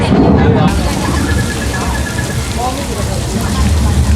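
A loud staged thunderstorm effect on the Universal Studios tram ride gives off a dense rush of pouring rain with low rumbling beneath, and a guide speaks over the downpour.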